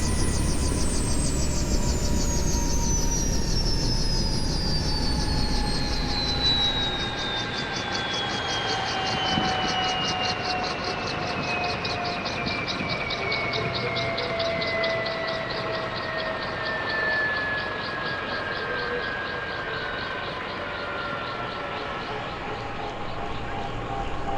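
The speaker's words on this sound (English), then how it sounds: "I close the throttle and shutting down the engine" A Bell Cobra helicopter's turbine engine spools down after shutdown, a loud steady whine sliding slowly lower in pitch over a rough rumble as the rotor, which has no brake, keeps coasting.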